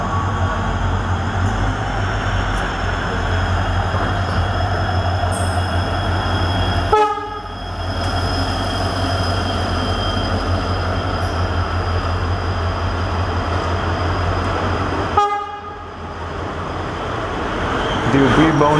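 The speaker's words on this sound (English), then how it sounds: "The UBL-bound Hampi Express arrives first, and it is closely followed by my Hubbali-bound passenger." The Hampi Express passenger train rolls into an Indian railway station on a hot summer day, a loud, steady rumble of wheels and carriages that is broken by two sharp gaps and surges as the train passes close by.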